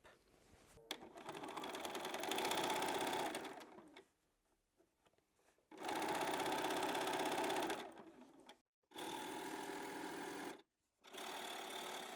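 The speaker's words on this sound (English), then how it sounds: "And I'm now going to stitch right the way across the top." A sewing machine stitches across the top of a drawstring bag in several steady runs of fast, even motor hum and needle clatter, broken by short pauses, close and fairly loud with no talking.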